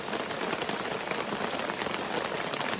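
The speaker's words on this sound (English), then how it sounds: "It's really starting to rain now" Rain drums steadily on a tarp shelter roof in the Borneo rainforest, a dense, close patter that stays even throughout with no voices.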